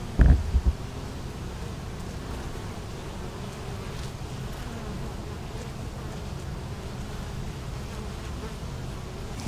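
Honeybees fly at a hive entrance while pollen comes in, making a dense, continuous buzzing hum up close, with a brief knock at the very start.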